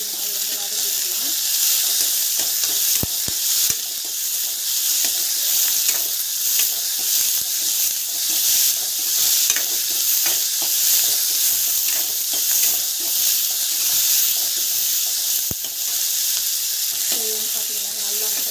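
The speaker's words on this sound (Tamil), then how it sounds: "நல்லா வந்து இந்த மாதிரி வந்து வதக்கிக்கலாம்." Garlic and onion sautéing with fenugreek in a hot pan, a loud continuous sizzle with occasional scrapes and stirring clicks, steady throughout with a few faint voice traces.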